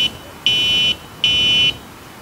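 Kugoo G3 PRO electric scooter horn signal, two loud electronic buzzer beeps of about half a second each, separated by a short gap, alone and close.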